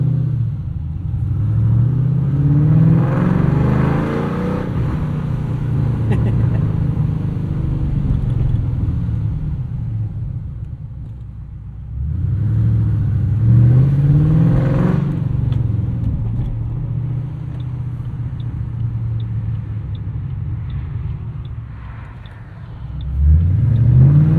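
A loud 2007 Ford Mustang Shelby GT, an S197 with a 5-speed manual and lowered springs, revs hard while driving, with repeated rising surges and throaty rumble between shifts, close and prominent throughout.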